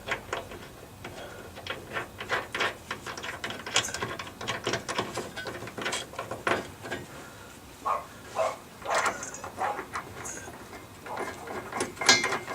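A ratchet wrench tightens nuts while a hitch is installed on an F350 truck, giving rapid clicking in repeated close bursts with short pauses between strokes, no talk.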